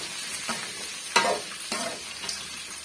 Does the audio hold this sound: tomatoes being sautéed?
yes